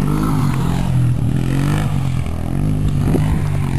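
A four-wheeler rides over dirt whoops, its engine droning loud and constant with clattering and scraping over the bumps, no talk.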